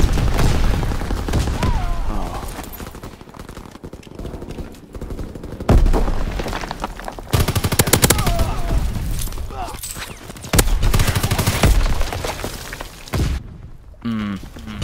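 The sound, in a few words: gunfire shooting a parachute in the video game Call of Duty: WWII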